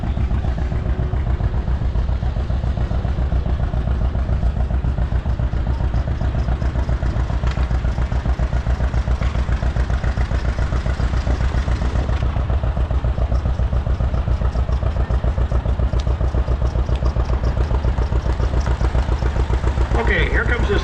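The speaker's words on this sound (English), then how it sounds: "This is a John Deere Model 60." A 1953 John Deere Model 60 tractor at a power parade runs with a steady, loud low-pitched engine chug and clatter throughout, with voices talking over it.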